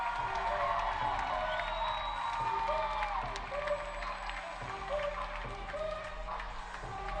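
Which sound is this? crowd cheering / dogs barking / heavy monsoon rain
crowd cheering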